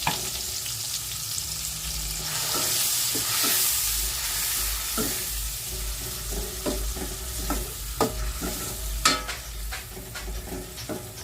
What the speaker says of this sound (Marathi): त्याच्यानंतर टामॅटो आता आपण त्याला हलवून घेऊया